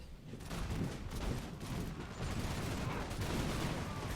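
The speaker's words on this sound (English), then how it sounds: "And that was all they needed, one volley." A musket volley from regiments in an American Revolution battle, heard as a dense, continuous crackle of gunfire that holds steady and loud for several seconds with no pause.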